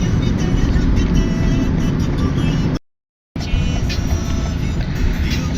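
Dubai taxi and other cars moving in heavy city traffic, a loud, continuous road and engine rumble heard from inside a vehicle, broken by a brief total dropout midway.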